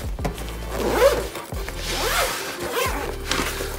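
A zipper is pulled closed on an iPad Pro case pouch packed with a keyboard, pencil and AirPods, giving several close, scratchy zipping strokes in quick succession.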